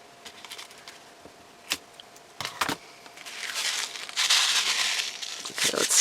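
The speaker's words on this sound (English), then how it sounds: "I'm going to trim off this excess plastic in the corners." Excess plastic being trimmed from the corners of a handmade shaker card, with scattered crisp snips and crinkles, then louder rustling and crackling handling up close.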